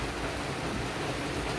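Fairly heavy afternoon rain falls steadily as a dense, even hiss close by, with no voices or other sounds rising above the wash.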